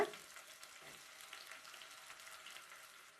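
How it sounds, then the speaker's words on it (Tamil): Sliced onions and green chillies sautéing in oil with whole spices, a steady close sizzle with faint stirring scrapes, no talking. "எல்லாத்தையும் நல்லா வதக்கிக்கலாம்"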